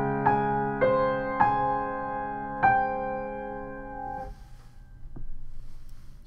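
Piano playing a short note pattern from a song from Frozen, five struck notes ringing out one after another in a slow, even rhythm, then fading into quiet room noise.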